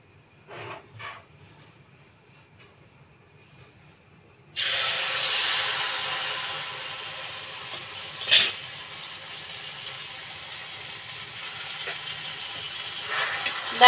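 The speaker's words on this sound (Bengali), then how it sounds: "দেখো কত সুন্দর ভাজা হয়ে যাচ্ছে" Palm-fruit malpua batter dropped ladle by ladle into hot oil, a steady loud frying hiss that starts abruptly and holds, with a few soft clinks before it and brief spoon knocks over the sizzle.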